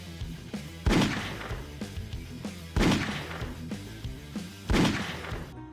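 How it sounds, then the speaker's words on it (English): Three loud, booming gunshots from a 2000s video game main menu, spaced about two seconds apart, each with a sharp attack and lingering tail over a low musical backdrop. "Even the main menu noise for that game is a gunshot."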